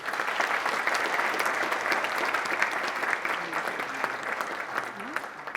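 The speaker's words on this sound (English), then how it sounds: "One more round of applause." Conference audience applauding steadily throughout, a dense even clatter of many hands at a talk event, continuous from start to finish with no break.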